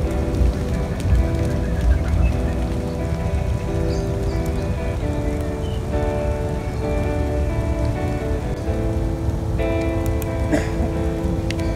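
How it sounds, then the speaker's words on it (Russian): Rain falling in a spring forest during a mushroom-picking walk, a steady dense patter on leaves and ground that continues without a break, close and fairly loud, with no voices. "Внезапно в нашу прогулку ворвался дождь."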